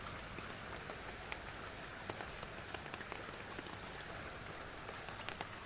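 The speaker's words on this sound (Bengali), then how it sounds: "বৃষ্টি তো 3 ঘন্টা হয়ে গেছে, একটানা হচ্ছে, থামা নাই" Heavy rain falling without pause for hours, a steady broadband hiss of drops striking surfaces with scattered sharper individual splats, faint and even throughout.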